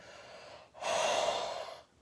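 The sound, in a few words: deep breathing in and out through the nose, pranayama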